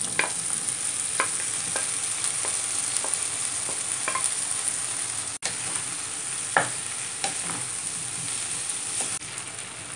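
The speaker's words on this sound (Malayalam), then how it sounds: "നമ്മുടെ വേവിച്ച് വെച്ചിരിക്കുന്ന കപ്പ അതിനകത്ത് ഇട്ട് കൊടുക്കാം" Boiled tapioca stir-fried in a Kerala-style seasoning pan, with steady close sizzling and repeated light scraping clicks of a spoon stirring throughout, no voices.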